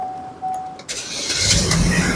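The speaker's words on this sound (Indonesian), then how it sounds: "Sekarang kita coba start mobil ya." Chevrolet Orlando 1.8 LT automatic from 2012 starting up: a short crank catches into a steady engine idle, close and fairly loud, with no talking.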